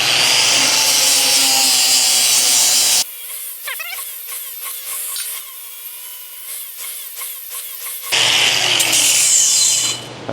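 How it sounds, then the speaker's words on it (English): A flap disc wheel grinds the outside of a stainless steel pipe in two loud, harsh bursts. A quieter stretch of rubbing and scraping sits between them. "So I'll take them over to the flapper wheel, and I'll deburr the outside."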